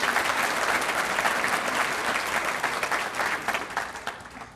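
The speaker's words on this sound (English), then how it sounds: "Let's give Jamie another round of applause and all our board." An audience at a school district's State of the District event gives a round of applause, dense close clapping that holds steady, then thins and tapers off.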